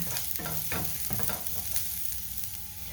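Garlic sizzles as it hits a hot frying pan, a steady close crackle with a few stirring scrapes near the start, no talk.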